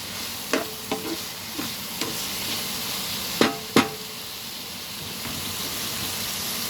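Cabbage stir-fried for pancit bihon, a steady sizzle of frying with clanks and scrapes of a utensil against the pan at irregular intervals, close and with no talk.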